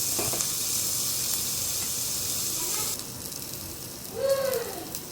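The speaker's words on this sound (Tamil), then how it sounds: "3 பச்சை மிளகாயும் போட்டு தாளிப்போம்." Three green chilies and onion sizzle in hot oil while tempering for moong dal sambar: a loud, continuous hiss that drops somewhat partway through, with a brief faint voice near the end.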